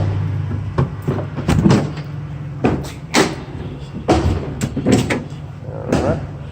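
Heavy metal rear cargo doors of a 2017 Ford Transit T-150 long-wheelbase van clunk and rattle as they swing open, several knocks and thuds over an idling engine hum.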